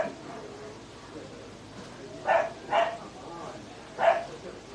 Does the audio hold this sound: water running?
no